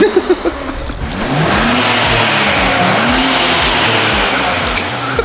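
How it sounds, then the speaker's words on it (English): A Nissan Z engine with modified downpipes revs up loudly and holds a sustained, roaring drone, close and dominant throughout. "It's just engine noise."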